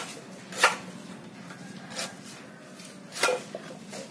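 A large manual vegetable cutter for hotels and catering slices through vegetables in three separate soft, rasping strokes spaced a second or so apart, quiet against a faint background.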